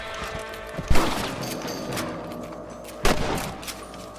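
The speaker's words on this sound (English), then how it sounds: "Get your rifle out. It's about time these little things met their maker." Two loud, close rifle shots about two seconds apart ring out over steady ambient game sound while rabbits are hunted in the Western video game Red Dead Redemption on PS3.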